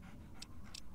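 Dog panting in the video game Fallout 3, a quiet steady breathing rhythm with two brief, brighter puffs standing out over a low in-game background hum.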